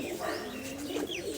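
Imported male and female pigeons coo at moderate volume, a low rolling murmur running continuously with a few higher chirps laid over it.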